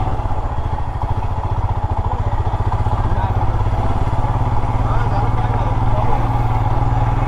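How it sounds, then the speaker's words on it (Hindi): A motorcycle rides toward Grishneshwar temple in Maharashtra, its engine chugging in a steady, rapid rhythm close by throughout, while someone talks over it. "अब अपन अपने बाइक को पूरा मंदिर तक ले जाने की कोशिश करेंगे।"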